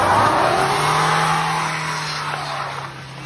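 A car engine revs hard as its tyre sits stuck, a loud continuous strained roar with a steady low tone that eases slightly toward the end.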